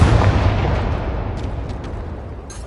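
A fiery Confringo blast spell goes off in Hogwarts Legacy, a heavy boom with a rumbling low tail that slowly fades over a few seconds, with a few faint lighter crackles near the end and no talking.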